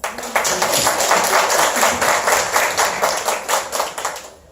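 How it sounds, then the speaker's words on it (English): A room of people clapping their hands together in steady, rapid applause that holds strong for several seconds, then starts to thin out. "Let's give her a hand clap."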